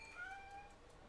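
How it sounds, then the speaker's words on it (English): Cat in a hidden-object video game gives a single short, clear meow with a rising and falling tone, close and alone over a faint background. "That's a cat."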